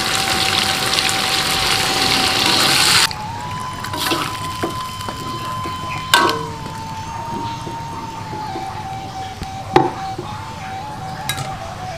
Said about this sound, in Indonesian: baru kita masukkan airnya